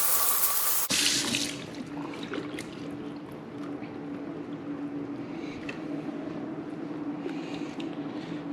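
Tap water runs steadily into a sink while a squid hood is rinsed under it, a continuous close splashing hiss after a brief louder burst at the start, with no talking.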